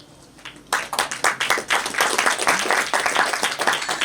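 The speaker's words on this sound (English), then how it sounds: "A round of applause." Audience applause at a solar power plant commissioning ceremony at Stoni Athi, starting abruptly after a quiet moment and continuing as lively clapping from a modest crowd, fairly close and uneven in rhythm.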